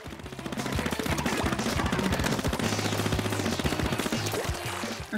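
Rapid automatic ink-gun fire from the Aerospray MG in the video game Splatoon 2, a dense steady stream of shots running loud and continuous for nearly the whole stretch, with game music and effects layered underneath.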